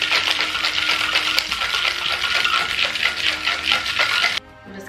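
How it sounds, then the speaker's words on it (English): Rhythmic rattling of ice shaken hard in a cocktail shaker, quick steady strokes for several seconds before stopping abruptly. "Cap the top and give it a good shake."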